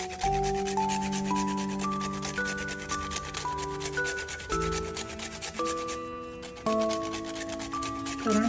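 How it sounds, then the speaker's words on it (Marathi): Whole nutmeg is grated by hand for traditional dinkache ladoo made with jaggery, a continuous close scraping rasp running beneath steady background music. "जायफळ हे पाहिजे म्हणून मी जायफळ किसून घालते"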